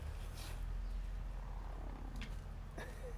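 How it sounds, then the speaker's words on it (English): Deep, steady purring from a cat named Gravy outdoors in sunny weather, a continuous low rumble running close and even throughout, with faint bird chirps in the background. "That was a deep purr."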